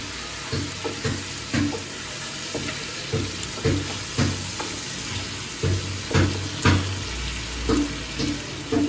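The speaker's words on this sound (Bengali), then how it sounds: "এখন আমি এই গুঁড়ো মশলাগুলো একসাথে মিশিয়ে নেব।" Ground turmeric and other powdered spices are stirred together in a pan over a very low flame, a soft steady sizzle with regular spatula scrapes and taps, close by and without speech.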